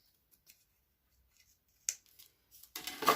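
Scissors trim excess paper from a handmade layered sympathy card, giving a few quiet, close snips near the end after a mostly silent stretch.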